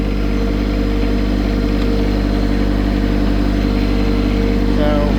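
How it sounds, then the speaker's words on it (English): A tractor engine drones steadily and loudly while the tractor backs up, a constant low rumble filling the whole stretch without pause. "I'm just backing the tractor up."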